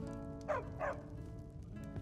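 A dog in the Skyrim game gives two short barks close together, fairly near and moderately loud, over a low steady game ambience.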